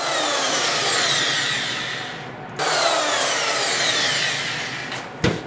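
Power drill driving screws into drywall while hanging a basement bedroom wall, heard as two long whirring runs with a brief pause between and a sharp knock near the end.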